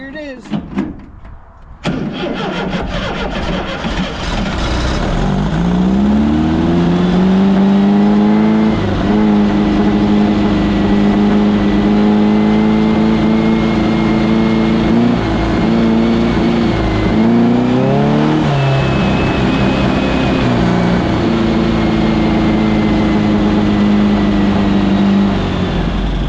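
Dune buggy engine in first gear revving up and holding a loud, droning tone with a few dips and rises, close by. Voices talk underneath.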